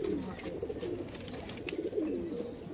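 Madrasi pigeons coo softly in a loft, repeated low throaty coos rolling in a steady rhythm, close but quiet.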